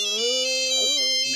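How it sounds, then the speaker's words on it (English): Electronic phone ringtone with steady sustained tones and bright stacked harmonics, a shifting melodic pattern playing continuously and clearly with no talk. "feedback phone ringing"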